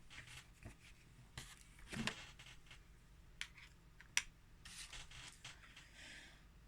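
A Derwent line marker scratches and rubs across paper in short, quiet strokes with brief pauses between them, close and soft, with one sharper tap partway through.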